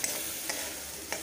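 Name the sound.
potato and capsicum vegetables sautéing in a pan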